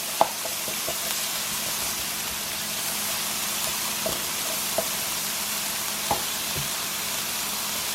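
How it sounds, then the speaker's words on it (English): Diced onions cook in butter in a pan with a steady, close sizzle throughout, broken now and then by small clicks of stirring. "we're going to cook these until the onions are kind of translucent"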